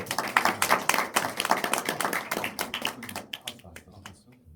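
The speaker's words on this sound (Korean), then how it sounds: "박수 한번 부탁드리겠습니다." Audience clapping at a Korean film screening Q&A in a cinema hall, many sharp claps in a steady burst that gradually thins and fades toward the end.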